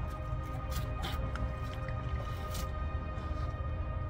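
Water dripping and squishing from a waterlogged wooden crate being hauled up from inside a well, close wet squelches and scattered drips with muffled handling noise.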